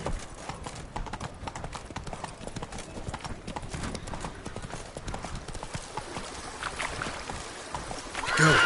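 Roach the horse's hooves clip-clopping in The Witcher 3, a rapid steady trot heard close throughout, with light talk and ambience in the background.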